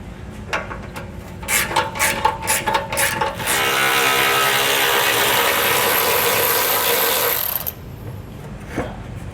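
Close up under the bed of a 2013 Ford truck, a ratchet removes heat shield bolts: a burst of quick clicking strokes, then a long steady whirring run of about four seconds, then a pause and a final click.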